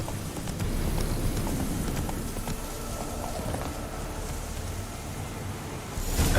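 Roach the horse runs in The Witcher 3, hooves clopping in a quick, steady rhythm over a rainy outdoor backdrop. The hoofbeats stay fairly soft and continuous throughout.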